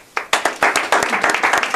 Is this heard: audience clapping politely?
yes